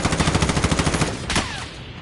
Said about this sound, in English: Getting sniped from somewhere else now.